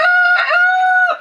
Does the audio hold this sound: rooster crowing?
yes